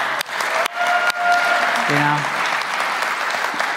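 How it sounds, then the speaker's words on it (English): A live audience at a sober speaker talk claps for a few seconds, a dense, fairly loud wash of applause that starts abruptly while a voice talks over it. "Let's give him a round of applause."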